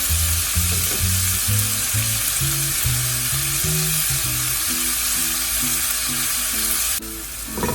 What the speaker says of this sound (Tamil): இதில் ஒரு 30 செகண்ட்ஸ் இதை வதக்கிடலாம்.